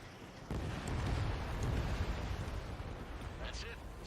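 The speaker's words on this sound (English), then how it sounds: "Missile launched." A missile launches from a fighter jet in the air-combat game Ace Combat 7 with a sudden whooshing roar that swells into a sustained rumbling rush, followed by a faint high streak near the end.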